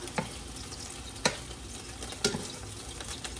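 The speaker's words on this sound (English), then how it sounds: "then we are going to make a roux." Roux cooking in a hot pan, a steady low sizzle broken by three distinct scraping stirs or taps of the utensil against the pan.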